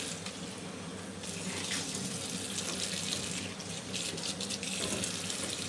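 Hot water runs steadily from a bathroom tap into a sink, a continuous close splashing hiss that fills the whole stretch without a break and carries no talk.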